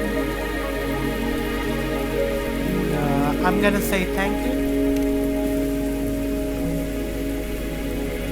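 Steady rain falls in the video game Wuthering Waves, a continuous even patter on surfaces that runs throughout, with brief game music tones and a short line of dialogue heard over it.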